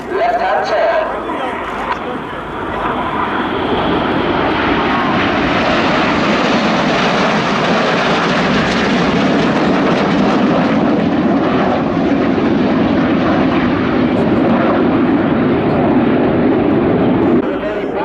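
An aerobatic display formation of aircraft roars through a 3G left-hand turn at an air show, a loud, steady engine rush sustained throughout with a voice commentating over it.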